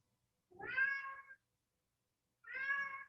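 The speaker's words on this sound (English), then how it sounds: "my cat is meowing at me" A pet cat meows twice, close and fairly loud, each call about a second long with a pause of silence between, in a quiet indoor room.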